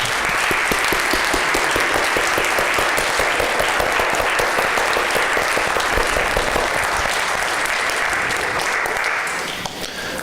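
An audience at a personal branding seminar gives board members a big round of applause, loud, close and sustained clapping that eases slightly just before the end.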